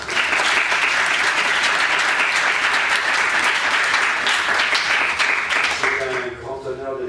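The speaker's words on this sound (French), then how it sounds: "Je voudrais que vous applaudissiez sa présence." A conference audience at a Lyon medical faculty bursts into loud, dense applause that holds steady for several seconds before tapering, with a voice beginning to speak as the clapping fades.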